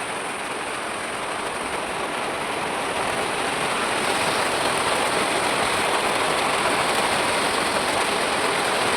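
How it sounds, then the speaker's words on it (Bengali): Heavy rain pouring down, a loud, dense, unbroken roar of falling water that holds steady and swells slightly throughout, with no voices. "কেমন জোরে বৃষ্টি নেমে গেছে"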